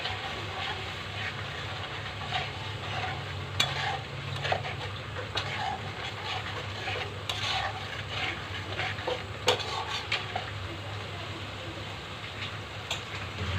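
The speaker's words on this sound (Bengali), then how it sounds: "আমি মশলাটাকে ভালো করে কষিয়ে নেবো" Spice paste sautéing in a pan for a Bengali koi fish and tomato curry, a steady sizzle with intermittent scraping and stirring clinks from a spatula, close and continuous with no voices.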